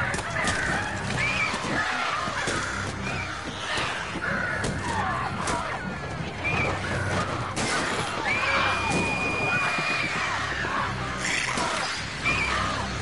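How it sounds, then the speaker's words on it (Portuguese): Harsh cawing of crows in the video game Days Gone, several rough calls scattered over a dense game soundscape with background music and effects, moderately loud throughout. "Corvos malditos."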